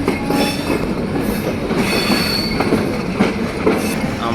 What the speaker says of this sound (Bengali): দেখেন বিশাল বড় একটা রেল স্টেশন